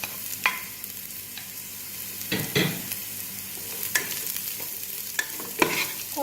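Onions sizzle in a pan as garlic, ginger and chili are added for a Sri Lankan crab curry, with a continuous frying hiss broken by several sharp stirring scrapes and clanks of a utensil.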